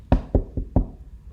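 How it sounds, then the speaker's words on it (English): Four hollow knocks land on a wooden door in an uneven rhythm, close and clear, each one sharp and short with silence in between. "she knocked at the door"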